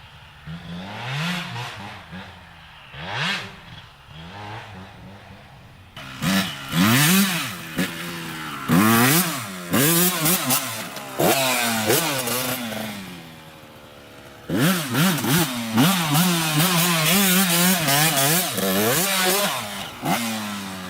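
A Kawasaki KX125 two-stroke dirt bike revs hard while riding on snow, its buzzing engine rising and falling in repeated sweeping throttle blips, loud and close throughout.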